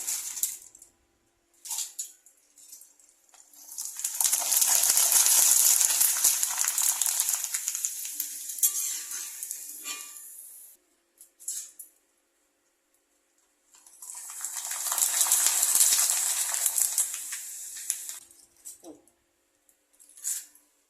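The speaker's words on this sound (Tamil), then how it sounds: "எப்படி நல்லா பொரியுது பாருங்க." Sun-dried rice kanji vathal crackers fry in hot oil, with two loud bursts of bubbling, crackling sizzle separated by a quiet pause and a few faint clicks.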